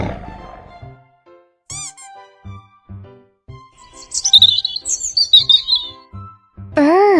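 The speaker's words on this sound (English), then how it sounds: "Bird. B-I-R-D." A cartoonish bird chirp in a children's animal-names learning game: two short, bright twittering calls, one near the start and a louder, longer one at the end, separated by plinks and a sparkly chime.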